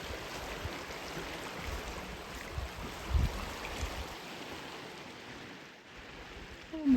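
Sulphur Creek spills over a small cascade beside a dirt trail, making a steady, close wash of rushing water that holds evenly throughout with no talk.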